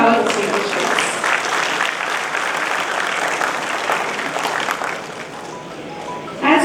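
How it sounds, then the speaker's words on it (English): Audience applause at a college semiconductor workshop, a sustained wash of clapping from a seated crowd welcoming guests onto the stage, steady for about five seconds before thinning out. "A big round of applause for our distinguished guests."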